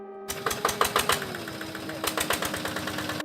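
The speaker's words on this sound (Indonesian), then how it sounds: "Bunyi mesin-mesin menyala dengan keadaan gelap gulita" Rice mill machinery runs inside a village milling building, a steady mechanical drone with rapid repetitive clattering and knocking pulses, fairly close and continuous after a quiet start.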